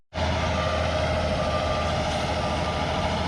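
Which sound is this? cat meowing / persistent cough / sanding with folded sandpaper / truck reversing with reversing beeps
truck reversing with reversing beeps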